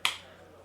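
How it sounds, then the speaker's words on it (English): A single sharp hand clap, close and fairly loud, with a quick decay and no talking around it. "Sorry for the clap."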